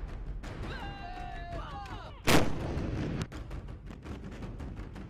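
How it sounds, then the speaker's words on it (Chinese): A single loud, sharp boom from an artillery gun firing a live round during a firing test, preceded by whistling tones and followed by a short rumbling decay. "在实弹射击考核中，向义和他的战炮班却出现了跑靶"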